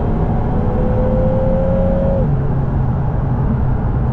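Engine note of a Lotus Emira four-cylinder with automatic gearbox, a steady rev tone that drops in pitch partway through as the transmission shifts up, heard from inside the car with constant road and engine drone.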